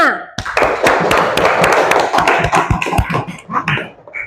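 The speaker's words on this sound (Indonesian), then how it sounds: "Tepuk tangan dulu untuk kelompok 5." A group in a classroom claps for a fellow student group, a dense burst of close hand claps lasting several seconds before tapering off, with no speech over it.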